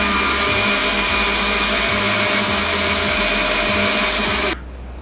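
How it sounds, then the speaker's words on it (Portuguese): Kitchen blender whirring loudly as it beats eggs for pancake batter, a constant close motor drone with a steady pitch that cuts off sharply near the end, no voices. "1 minutinho batendo no liquidificador."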